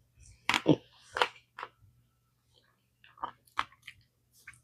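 Crunchy chewing of the crispy crust edge of a baked savory potato pie, a few loud close bites and crunches in bursts with pauses between.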